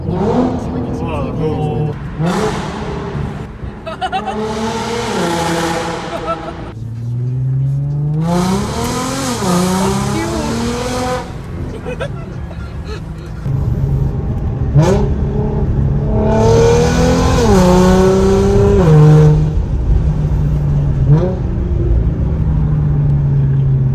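A 2012 Audi A6 C7 3.0 TFSI with a valved straight-pipe exhaust revs up repeatedly, loud and raspy, pitch climbing through the gears with brief drops between shifts, close and aggressive.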